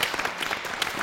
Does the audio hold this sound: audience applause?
yes